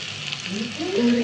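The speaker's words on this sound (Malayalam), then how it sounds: "ഒരു 5-6 ചെറിയുള്ളി ഒന്ന് റൗണ്ട് ഷേപ്പിലൊന്ന് കട്ട് ചെയ്ത് വെച്ചതാണ് കേട്ടോ, അതും കൂടെ ചേർത്ത് കൊടുക്കണം. എന്നിട്ട് നല്ല രീതിയിൽ തന്നെ ഒന്ന് മൊരിയിച്ചിട്ടെടുക്കാം" Sliced round shallots frying in oil in a pan for a Kerala-style fish curry, giving a steady, close sizzle with a faint crackle throughout.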